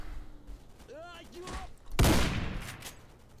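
A single heavy shotgun blast booms close and loud in the video game Stalker. It comes after a few seconds of quieter sounds with a voice, and its echo tails off.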